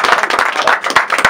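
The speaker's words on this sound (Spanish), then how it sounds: "Otro aplauso por eso." Applause from an audience during an interview with a mayoral pre-candidate, a steady burst of close, dense hand clapping filling the whole short stretch with no talking over it.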